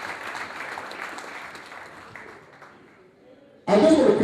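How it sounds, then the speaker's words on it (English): A voice speaks over a quiet hall at an Ikwere community gala night, then near the end a loud burst of audience applause suddenly breaks out. "Let's give them a round of applause, please."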